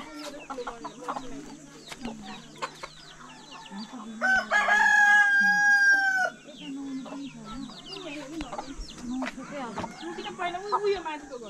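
A rooster crows once, loud and close, for about two seconds midway, while hens cluck around it and people talk before and after.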